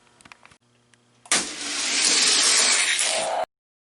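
Hot Wheels toy cars, a Dodge Charger against a Bugatti Huayra, race side by side down a downhill track. A few light clicks come first, then a sudden loud, sustained rolling roar of plastic wheels that lasts about two seconds before stopping abruptly.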